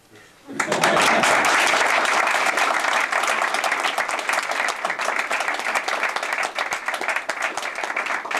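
Audience applause at a Toastmasters meeting, erupting suddenly after a brief quiet moment, then a loud, dense and sustained round of clapping from a roomful of people that slowly thins slightly toward the end.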